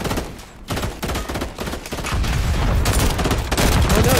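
Dense bursts of rapid video-game gunfire in ranked play, loud and close, with overlapping shots and booms rolling continuously with no pause.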